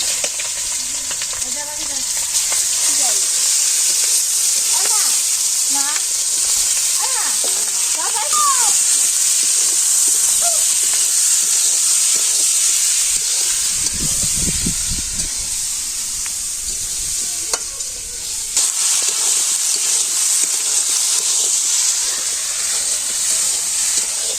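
Chicken meat sizzles loudly and steadily in a pot with spices for a village-style chicken curry, a constant bright frying hiss broken by a few stirring scrapes and a brief low rumble midway.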